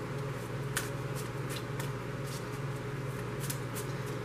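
Tarot card deck shuffled by hand during a reading, a run of quick papery riffles and soft slaps repeating at a steady pace, close and clear, with no talk.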